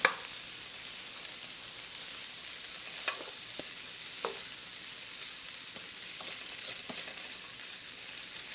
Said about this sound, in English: Now I'm going to add the tofu and stir that around.